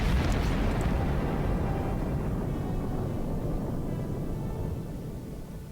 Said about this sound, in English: Huh, 360-degree firing cannons.